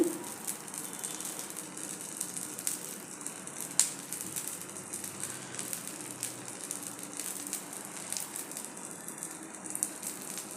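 Appe batter frying in an oiled appe pan on medium gas heat, a steady soft crackle and sizzle with faint clicking, close and continuous with no talk.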